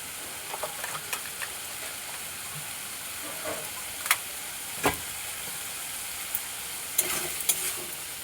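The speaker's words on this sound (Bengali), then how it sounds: "ভালো করে একসাথে কষিয়ে নেব।" Masala sautés in a pan with Kashmiri chilli powder, giving a quiet, steady sizzle broken by a handful of sharp spatula scrapes and taps at irregular intervals.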